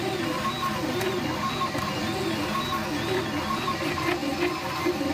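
A Flashforge Dreamer 3D printer prints a small button, giving a steady, close mechanical whir with soft stepper-motor buzzing and light clicks that run without a break.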